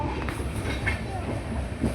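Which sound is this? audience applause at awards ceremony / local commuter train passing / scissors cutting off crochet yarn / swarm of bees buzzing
local commuter train passing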